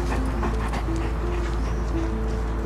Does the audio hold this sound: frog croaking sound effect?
no